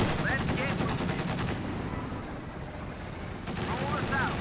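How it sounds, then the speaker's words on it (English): Machine guns of an AA half-track rattle in rapid bursts during a Company of Heroes 2 battle, the gunfire dense and continuous under a steady wash of battlefield noise. "its moving performance on the machine guns seems to be back to normal"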